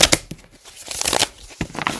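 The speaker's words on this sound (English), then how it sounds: "So come with me as I shuffle the cards." Tarot cards are shuffled by hand in a few quick riffling bursts, close and crisp, with brief pauses between them and no talking.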